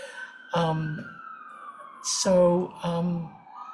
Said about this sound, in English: there are fire engines from the 100th Street Fire Department going by down my area